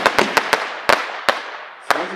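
A Paris 30-shot firework battery fires off a rapid series of sharp, loud cracking bangs at uneven intervals, each burst followed by a short crackling decay.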